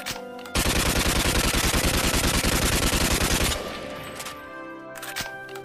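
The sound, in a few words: celebratory gunfire into the air in video game Free Fire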